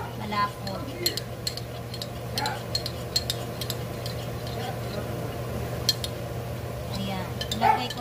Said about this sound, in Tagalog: Hahaluin nyo lang siya ng maayos.